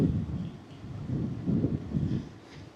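Gusty wind buffets the microphone on a breezy morning seafront by a harbour, swelling in low rumbling surges that rise and fall continuously with no speech.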